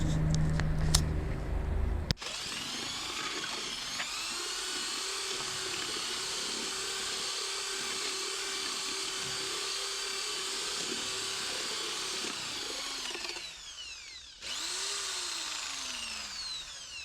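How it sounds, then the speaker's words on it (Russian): A drill-mounted mixer paddle stirs mortar for building a brick tandoor, a steady high whine running continuously close up, dipping briefly near the end before spinning back up. "Буду сыпать сюда мертель и размешивать миксером до состояния готовности."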